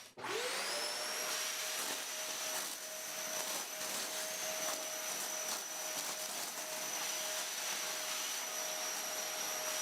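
A SuperCell dust collector starts up and pulls in large hand plane shavings, quickly rising into a constant loud airy roar with a thin high whine and intermittent crackling as curls get drawn through the hose. No voices.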